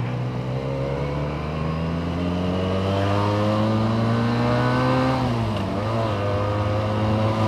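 Benelli TNT 250 motorcycle engine held at high revs, around 9000 rpm, while riding, a loud continuous whine with steady harmonic tones that dip briefly before climbing again, without speech.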